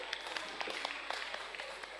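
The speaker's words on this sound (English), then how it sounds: "Clap for yourself." An audience claps for a contestant at a grand finale reading competition, the applause a steady faint patter of hands throughout, with scattered louder claps standing out.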